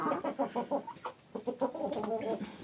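Chickens cluck in quick, close, rhythmic bursts, a cluster of healthy hens heard without any talk.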